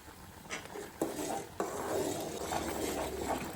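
Upma simmering in a pan, a soft continuous bubbling and sizzling with a few sharp clinks of a spoon against the pan as it is stirred, close and moderately quiet with no talking.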